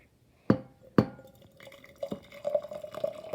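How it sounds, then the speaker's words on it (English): Two sharp glass clinks, then hot water from a tea kettle trickles and splashes into a glass jar, rising in pitch as it fills; close and clear. "Obviously the tea kettle Libby's pouring with is hot water."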